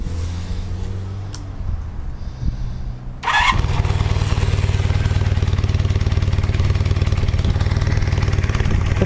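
A cold 1978 Honda CB400T motorcycle cranks briefly after a quiet stretch, then catches and settles into a loud, steady, close-up idle that runs on without pause.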